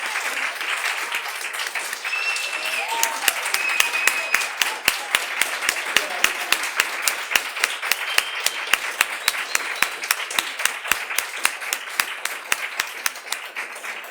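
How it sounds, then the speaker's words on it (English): Warm audience applause at a memorial dance event, many hands clapping steadily and densely for the whole stretch, fairly close and loud. "I'd like to invite us to give Chandrima a really warm round of applause"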